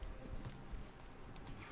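Faint clip-clop of horse hooves in the video game Kingdom Come: Deliverance II, in a quick, uneven rhythm, quiet and slightly muffled.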